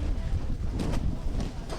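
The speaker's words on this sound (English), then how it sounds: "on this very windy afternoon at Ayala Vermosa Sports Hub" Strong wind buffets the microphone at an outdoor rugby sevens match, a continuous heavy roar with gusting surges throughout.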